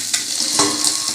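Katla fish frying in a pan with a little oil, giving a steady close hiss of sizzling with a few brief clatters or stirring touches, no talking.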